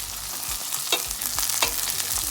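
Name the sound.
celery added to a frying pan, sizzling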